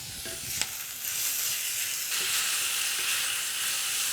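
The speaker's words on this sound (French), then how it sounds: "nous allons ajouter les lardons dans les oignons. Et on les fait revenir également." Bacon lardons sizzle with sliced onions in a small sauté pan, a close, steady frying hiss that grows louder after a utensil tap and a few stirring scrapes.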